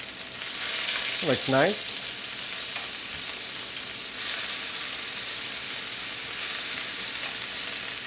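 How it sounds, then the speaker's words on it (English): Fresh herbs and garlic sizzle and caramelize in a hot pan, a constant close frying hiss; a voice briefly speaks near the start. "You can see all of our fresh herbs and our fresh garlic caramelizing."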